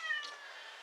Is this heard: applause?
no